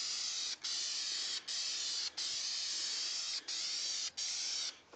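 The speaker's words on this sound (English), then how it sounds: "Just gonna do a couple test sprays here." Test sprays from a shaken spray paint can before painting a Ford Expedition grill: six bursts of loud, close hissing spray, each lasting about half a second to a second, separated by brief gaps.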